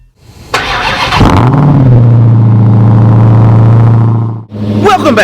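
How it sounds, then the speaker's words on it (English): A Dodge Challenger Hellcat with a new exhaust cold-starts with a loud cranking burst, then settles into a heavy, steady idle rumble. It cuts off briefly before a raspy rev picks up at the end. "We're actually about to hop in the Challenger, as you can tell by the cold startup"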